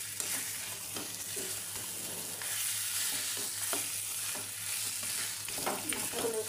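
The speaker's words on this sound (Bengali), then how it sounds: "মশলাটার সঙ্গে একটু মিশিয়ে নিই।" Fish head sizzling in a pan with spices while being stirred, giving a continuous frying hiss broken by repeated scraping and clinking strokes of the spoon, close by.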